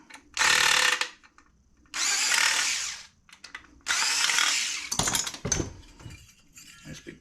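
A power drill backing screws out of a Panasonic projector TV being scrapped, three loud close whirring bursts about a second each with pauses between, then clattering handling noises, no speech.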